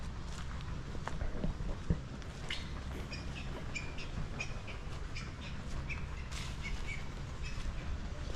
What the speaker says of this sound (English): The birds there.